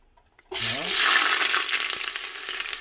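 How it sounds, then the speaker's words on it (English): Onion hitting a hot pan while cooking beans, bursting into a loud sudden sizzle after near silence, then holding a steady crackling fry with a few faint stirs. "by frying the onion, you will change the texture"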